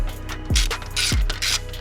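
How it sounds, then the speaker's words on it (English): A ratchet fitted with a 10mm socket turns a motorcycle exhaust mounting bolt, giving two short bursts of close, crisp ratcheting clicks about half a second apart with no talking. "With the 10mm socket, now you can reach behind and get the next mounting point."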